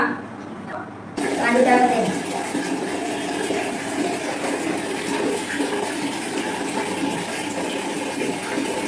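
Water runs steadily for a bath, a continuous rushing gush that begins abruptly after a second and continues under a woman's conversation.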